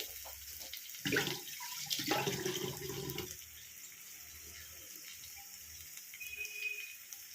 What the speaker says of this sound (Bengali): এই ঢাকনাটাতে অনেকটা তেল লেগে আছে, এটা ধুয়েই দিয়ে দিলাম একটু